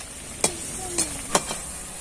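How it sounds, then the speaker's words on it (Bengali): Raw potato snacks fry in hot oil with a steady, fairly quiet sizzle, broken by a few sharp spatula clicks against the pan roughly every half second. "এটা কিন্তু একটু সময় ধরে ভেজে নিতে হবে"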